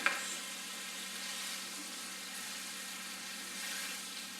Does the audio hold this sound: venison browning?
yes